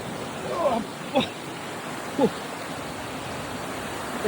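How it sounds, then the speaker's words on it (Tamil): Water runs down from mountain rock in a forest, a steady rushing flow that stays continuous throughout, with a few brief chirps or voices breaking in at intervals. "மலைப்பாறையிலிருந்து வடிஞ்சு வர தண்ணி அல்லவா"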